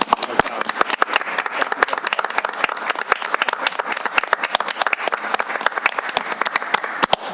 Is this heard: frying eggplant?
no